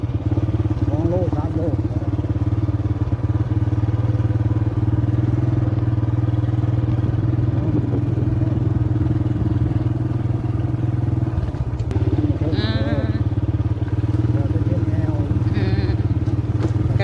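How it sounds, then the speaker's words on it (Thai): A motorcycle rides out to the garden, its engine droning at a steady mid-pitch close by for the whole stretch, with a voice talking over it and a brief dip in the noise partway through. "ขี่รถจักรออกกับพ่อใหญ่"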